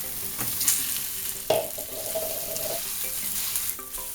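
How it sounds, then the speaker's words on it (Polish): Beef sizzles and crackles in a frying pan while being stirred and separated, with a few louder scrapes and clatters of the utensil; steady, close frying noise and no talking. "Smażymy to około 5 minut."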